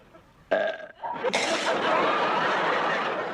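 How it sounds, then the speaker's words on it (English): A loud, drawn-out burp rumbles up after a short voiced sound, swelling and continuing for a few seconds, close and unhidden. "teach me to belch"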